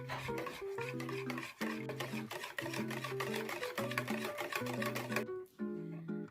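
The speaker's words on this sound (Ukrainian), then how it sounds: "І все це ретельно перемішуємо." Eggs, oil and milk for a chocolate cake batter are stirred in a bowl, a rhythmic run of close scraping and tapping strokes with a brief pause before the stirring resumes.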